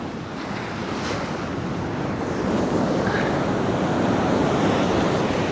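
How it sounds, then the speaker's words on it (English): Strong ocean surf crashing on a steep beach during a cranking swell, a loud continuous roar of breaking waves mixed with wind buffeting the microphone, swelling slightly louder halfway through. "when these waves hit you, they're really strong"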